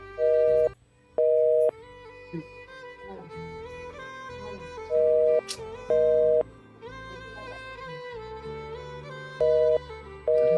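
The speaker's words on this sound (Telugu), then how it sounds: "ఫోన్ బిజీ వస్తుంది." Telephone busy tone heard as repeated beeps in short bursts, recurring in pairs across the clip over a background of music.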